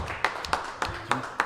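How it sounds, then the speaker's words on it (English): A small roundtable audience claps for a panel at a community economic program event, a handful of distinct, evenly spaced claps standing out against a murmuring room, somewhat distant and moderate in loudness. "Give him a round of applause. The whole panel."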